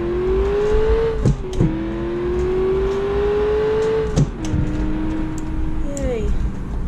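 Car engine in BeamNG.drive played with pedals and manual clutch, revving loudly and steadily, dropping with each gear shift and climbing again, with clicks from the pedal controls; close and continuous.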